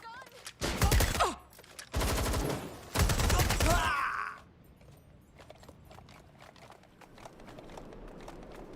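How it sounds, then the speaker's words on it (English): A rapid burst of gunfire in the video game Watch Dogs Legion, loud, close volleys of several seconds, then quieter game ambience with faint footsteps. "Was that a gun?"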